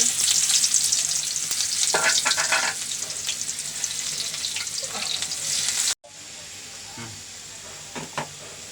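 Cumin seeds and onion frying in oil in a pan for a small jatka fish curry, a loud steady sizzle with occasional stirring scrapes that drops suddenly to a quieter hiss partway through.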